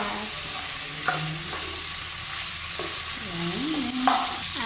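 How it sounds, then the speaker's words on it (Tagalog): Chicken browning in a hot pan, a continuous close sizzle broken by several scraping strokes of a spatula stirring the pieces, with no talk. "Kailangan mag-brown, medyo brown din ating chicken para masarap"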